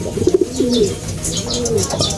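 A racing pigeon, back from a hard race to Aparri, Cagayan, coos up close: a quick burst of throaty notes, then a longer rolling coo, clear and loud with no one speaking.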